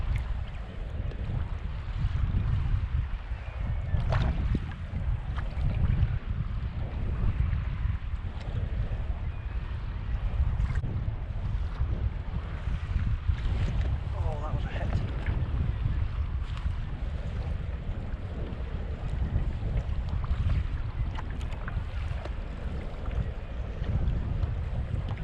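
On a fishing boat drifting slowly at sea off Arbroath, Scotland, steady wind buffets the microphone with a low constant rumble, while faint knocks and water sounds rise from the hull.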